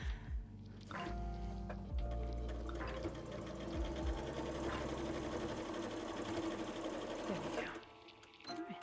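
A sewing machine stitches fabric in a steady rapid whir that starts after a moment's pause and runs for several seconds before stopping near the end, fairly close and alone.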